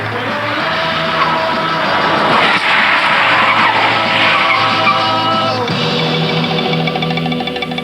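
A 1965 Ford Anglia brakes hard from 70 mph, its tires skidding in a loud, continuous screeching squeal over road and engine roar that lasts several seconds before easing slightly.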